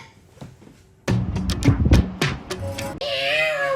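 A sick cat yowls loudly and repeatedly at close range, drawn-out wavering cries following a quiet stretch, ending in a long rising wail.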